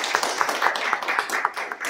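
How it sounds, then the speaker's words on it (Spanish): A small audience claps for a guest on a Spanish-language show, a short burst of fairly close, uneven claps with a roomy echo. "vamos a darle un aplauso a Ever"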